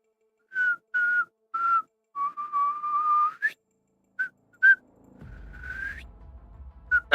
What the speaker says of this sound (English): you begin to hear a whistle